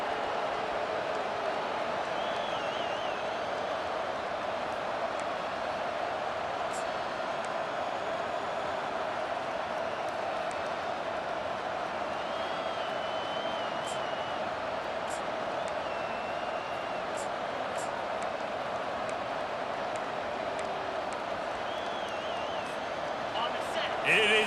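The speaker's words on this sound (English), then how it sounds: "It is getting loud as this crowd tries to help its defense." A stadium crowd in EA Sports College Football 25 builds a sustained, droning roar to rattle the offense, an even wall of noise holding for the whole stretch beneath play-by-play commentary.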